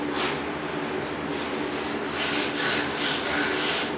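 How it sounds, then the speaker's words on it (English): A power sander grinds steadily across the metal bed of a 1969 Ford Bronco, its abrasive hiss swelling louder in repeated passes toward the end. "get my little sander out here, sand this bed down."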